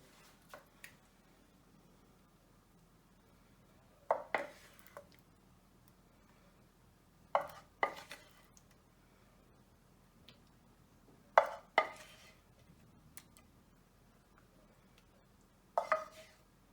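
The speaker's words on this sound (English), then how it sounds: "we're just going to spoon over that creamy Parmesan sauce with our mushrooms" Creamy Parmesan sauce with mushrooms is spooned over chicken in a quiet kitchen, giving soft wet squishes and light spoon clinks in four short clusters separated by near silence.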